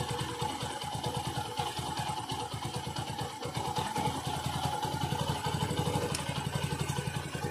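A Bajaj Discover 110cc motorcycle engine idles steadily up close, its even rapid pulsing with a slight mechanical clatter continuing throughout without pause.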